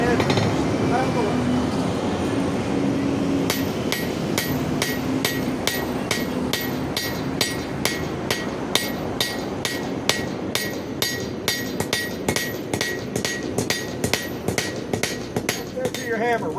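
Rapid, regular hammer blows ring out on hot steel, dozens of sharp metallic strikes in a steady rhythm over a noisy forge workshop background.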